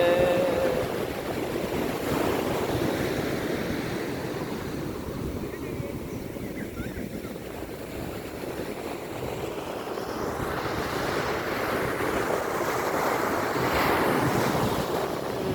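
Sea waves roll and wash continuously onto Kovalam beach, a loud, steady surf roar mixed with gusting wind buffeting the microphone, with no talk.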